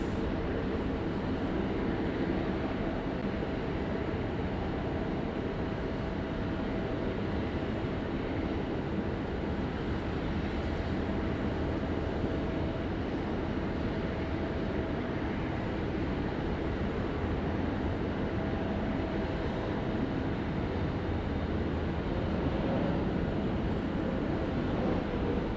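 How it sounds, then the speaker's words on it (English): A United Boeing 777-300ER airliner arrives at Sydney Airport, a broad, steady roar of jet engines heard from a distance and holding at a constant level throughout. "This is our first United arrival, actually, of the morning. The 777-300ER."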